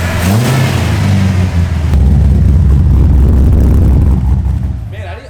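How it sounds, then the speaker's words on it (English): A car with a Honda K24 engine drones loudly and rises in pitch as it revs, holding a strong steady roar before easing off near the end, with brief talk early on. "this is a K24 out of a Honda, obviously, and it makes a little bit less power than RJ's Miata"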